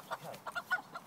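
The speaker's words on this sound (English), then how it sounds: "Annie, did you just fire talcum powder at the chicken?" A hen clucks in short, quick, nervous bursts, close up and fairly quiet, while being treated for severe pecking injuries.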